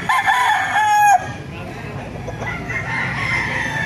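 A Hatch Gray gamefowl rooster crows once, loud and near, at a busy chicken market in Baliuag, Bulacan, the call ending abruptly with crowd noise and other birds continuing faintly behind.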